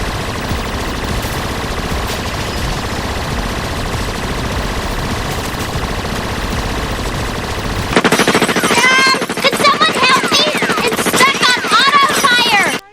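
A minigun in the game Mullet Mad Jack fires in a dense, continuous rapid-fire burst over the first eight seconds. After that it gives way to a busy stretch of other game sounds and effects.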